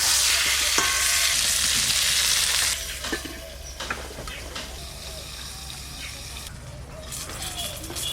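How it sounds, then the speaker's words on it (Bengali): Eggplant slices sizzle loudly in hot oil in a pan, a dense steady hiss that drops to a softer crackle partway through, with occasional clinks of a spatula turning the pieces. "বেগুনগুলো সব ভাজা হয়ে গেছে, তুলে নেব।"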